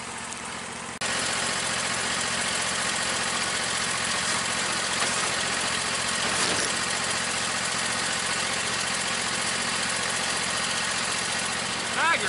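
Engine of a Tiger Cat lawn mower with a clogged bagger screen, idling steadily at a constant, loud, broadband level for about eleven seconds with no clear change in rhythm.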